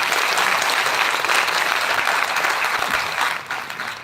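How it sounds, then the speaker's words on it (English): Loud, dense applause from an audience at a climate change and solar energy awareness event, steady clapping throughout that thins slightly toward the end. "A very big round of applause"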